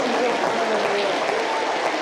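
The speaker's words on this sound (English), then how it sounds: "give yourselves a round of applause" Audience applause at a science fair presentation fills the room with a steady, dense wash of clapping that holds at an even level throughout, with some faint voices mixed in.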